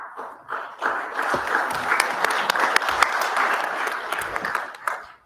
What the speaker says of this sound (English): You're supposed to clap after I make the comments, if you like them.